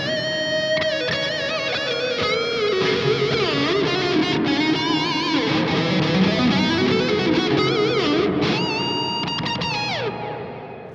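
Heavily distorted electric guitar run through the FLESHROT amp suite plugin by AuroraDSP, playing sustained, melodic lead lines soaked in echo and delay, loud and continuous for about eleven seconds before tapering at the end, with no talking.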